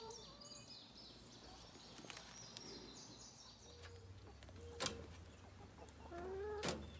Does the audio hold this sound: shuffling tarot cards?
no